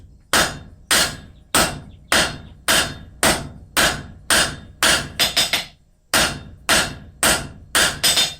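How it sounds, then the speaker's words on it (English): Hammer blows drawing hot metal down into a taper while forging a blacksmith scraper: loud, sharp ringing strikes at a steady rhythm of about one per second, with a quick double hit and a short pause partway through, close and with no talking. "I'm just going to forge this down"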